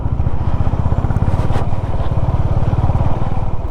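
A motorcycle not built for off-roading chugs over a steep, muddy, rocky gravel road in Zanskar, its engine a loud, close, rapid throbbing pulse that stays steady throughout.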